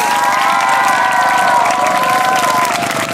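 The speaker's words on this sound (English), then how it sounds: "give us a big round of applause for the draw." At a bicycle stunt display, a crowd breaks into loud cheering and applause, with children's shouts riding over a thick wall of clapping that holds for about three seconds.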